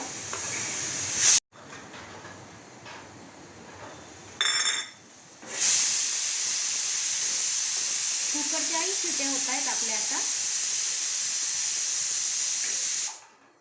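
Dry coconut roasts in a pan for mutton masala, a continuous bright hiss that is broken briefly near the start and then runs steady and close until it stops near the end.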